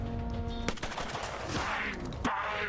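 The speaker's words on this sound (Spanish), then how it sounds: "le ha dado un balazo" A rapid burst of synthetic gunfire in the video game Mutant Year Zero: Road to Eden, several sharp cracking shots in quick succession, loud and close, with a brief gap before another shot.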